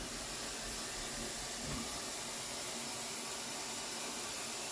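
Tap water running at a kitchen sink: a steady, even hiss that stays constant throughout, close by and with no talk over it.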